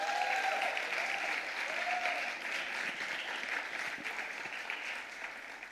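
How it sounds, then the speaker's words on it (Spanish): A church congregation applauds for God during a sermon, a sustained, moderately distant wash of many hands clapping that continues evenly throughout with a slight fade toward the end. "regalen un aplauso a Dios"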